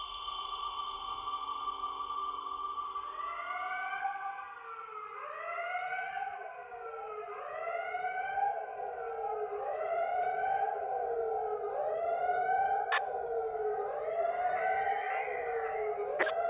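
Alarming siren-like trailer music composed for the Michael Bay film Ambulance: sustained wailing tones rise and fall in overlapping sweeps, loud and continuous with no talking.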